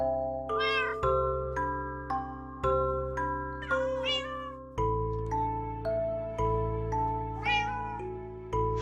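A Minecraft cat meows over and over in a steady rhythm while a game music melody plays loudly underneath.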